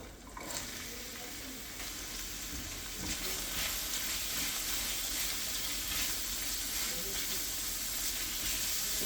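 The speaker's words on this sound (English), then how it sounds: "First, I'm going to add the onions." Onions sizzle and fry in a hot pan for chicken stroganoff, a steady close crackling hiss that builds slightly and holds throughout with no talking.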